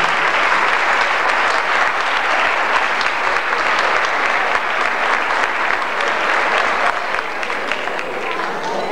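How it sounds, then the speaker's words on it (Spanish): Sustained applause from a crowd, loud and dense, steady clapping throughout with a slight taper near the end. "Ellos son Jorge Bermejo y Oscar Holguín, para los que voy a pedir un fuerte aplauso."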